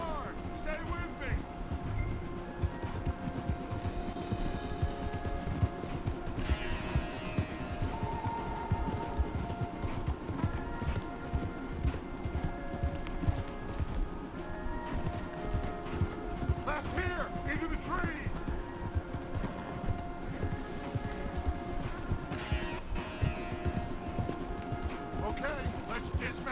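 Horses galloping hard in the video game Red Dead Redemption 2, a steady rapid drumming of hooves running under game music and effects, fairly quiet throughout.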